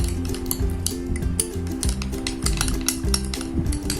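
A spoon clinks and scrapes quickly around a bowl as a homemade coconut oil face scrub is mixed, giving rapid, uneven metallic taps and scraping close up, over a steady low background hum.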